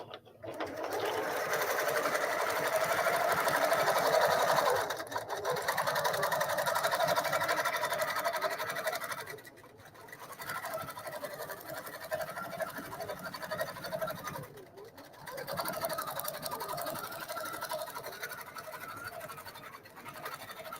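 An embroidery sewing machine stitches a pattern in steady, fast mechanical bursts, loud and close, pausing briefly between runs with no voices over it.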